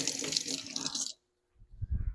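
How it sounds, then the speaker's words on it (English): Running tap water splashes loudly as a hand is rinsed under a kitchen faucet for about a second, then it cuts off abruptly, followed by a soft low rumble of handling sounds. "Let me rinse my hand off real quick."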